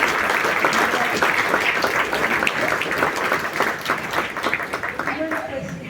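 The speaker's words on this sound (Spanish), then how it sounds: "Agradecerle todos un aplauso, por favor, a la conferencia magisterial" Audience applause follows a keynote lecture on healing plants at Kalmekac Temixko 2022, a full, steady wash of clapping that thins toward the end as voices begin to emerge.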